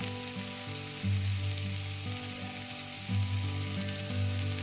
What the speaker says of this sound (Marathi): तर आता आपण हे परतवून घेऊया